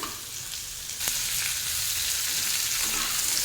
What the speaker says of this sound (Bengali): আলুকেও এরকম উল্টে পাল্টে খুব ভালো মতো করে ভেজে নিতে হবে